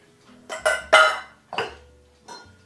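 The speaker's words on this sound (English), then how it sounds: "And I'm mixing my carrots up." A utensil stirs grated carrots in a mixing bowl for a low-calorie carrot cake, making about five short scraping clinks in uneven bursts, close and moderately loud with pauses between strokes.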